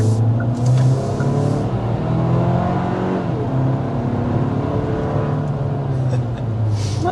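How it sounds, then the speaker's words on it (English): A 2026 Hyundai Santa Cruz pickup accelerates in sport mode, heard from inside. The engine note climbs steadily through gear changes under a constant road and tyre rush, moderately loud throughout. "That was a sport mode acceleration."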